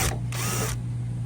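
A ratchet wrench turning a 10mm socket to remove a bolt from the rear door latch of an FJ Cruiser, giving a short close burst of rapid clicking.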